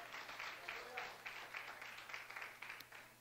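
A church congregation applauds its pastor during a service with a steady run of rhythmic clapping, moderately loud and slightly distant.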